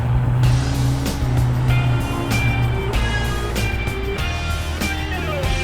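A 4WD vehicle pushes through a mud puddle on a rough Tasmanian track, its engine droning loud and close with steady revving and rumbling throughout.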